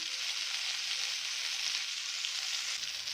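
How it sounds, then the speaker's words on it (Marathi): Green chillies roast in a pan over low gas, giving a steady, even sizzle that holds at a constant level throughout, with no voices. "हा व्यवस्थित मिर्चा छान असा कमी गॅसवर व्यवस्थित भाजन घ्यायचा"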